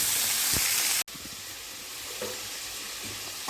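Peas, carrot and potato sautéing in hot oil for a vegetable kurma give a steady, close sizzle with a few soft stirring scrapes, broken by one brief cut in the sound near the start.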